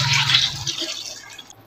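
Water is poured into a cooking pot of vegetables and rice, a bright splashing gush that starts strong and tapers off over under two seconds, close by and with no voices.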